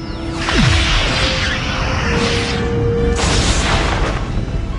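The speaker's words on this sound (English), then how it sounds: "They inverted our phaser beam with a feedback pulse." Star Trek phaser beam fired from Voyager and inverted by a feedback pulse: a loud sci-fi energy burst with a falling whoosh, a sustained humming beam, then a second surging blast, all without talk.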